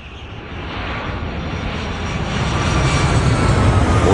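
A jet airliner, Pan Am Flight 103, cruises on a pre-holiday flight high above Lockerbie at Christmas time. It gives a steady, dense engine roar that swells slightly louder toward the end, with no voices.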